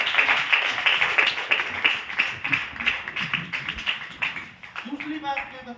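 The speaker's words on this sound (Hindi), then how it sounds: "जोरदार ताली होनी चाहिए।" A crowd claps at a motivational talk on a business system, with steady rapid hand claps fading toward the end as a voice begins speaking.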